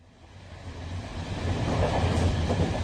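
A moving passenger train bound for Newcastle gives a low rumble and rattle that swells from quiet to a steady, fairly loud roar.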